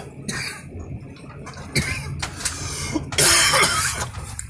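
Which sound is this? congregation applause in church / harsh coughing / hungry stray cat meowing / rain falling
harsh coughing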